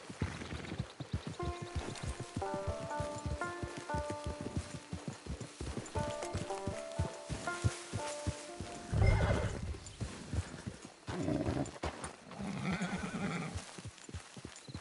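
A horse in the video game Red Dead Online whinnies and snorts amid repeated clip-clopping hooves, with a melodic tune playing underneath throughout.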